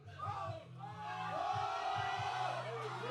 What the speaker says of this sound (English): Do you hear the crowd shouting?